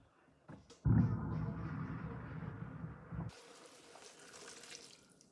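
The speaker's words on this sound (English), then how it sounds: "I'm going to pour that broth through it. I'm going to drain the broth off." Chicken broth from a pot of chicken and dumplings is poured through a strainer into a kitchen sink: a loud, rushing splash for about two and a half seconds, then a fainter trickle and hiss.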